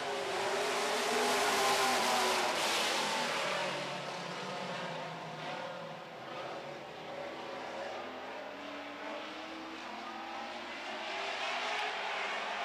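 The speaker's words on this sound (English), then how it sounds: "Danelle DeRoger picks up the throttle, and we are racing" Super stock race cars at Red River Co-op Speedway accelerating off the start, a roaring blend of engines swelling and fading at mid distance, loudest early and rising again at the end.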